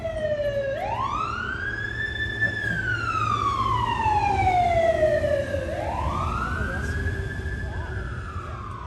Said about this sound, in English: I'm worried about these sirens.